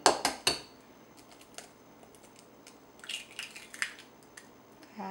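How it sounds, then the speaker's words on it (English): One egg cracked into a bowl for a black bean burger mix: a few sharp clicks and taps of shell striking the bowl rim at the start, then lighter clinks and splats, close and fairly quiet, with no talk. "And then I'm going to take one egg."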